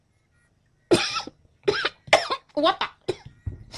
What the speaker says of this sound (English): I don't know why they cough.